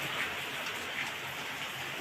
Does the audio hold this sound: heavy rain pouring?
yes